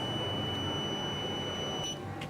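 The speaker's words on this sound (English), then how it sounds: "So the alarm stopped beeping the sound." A medicine reminder box alarm emits steady electronic tones, a continuous high beep with faint extra bleeps near the end, sounding close and alone with no voices.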